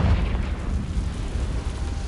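Confringo fire spell detonating in Hogwarts Legacy, a loud sustained low rumbling blast that rolls on for about two seconds with no voices over it.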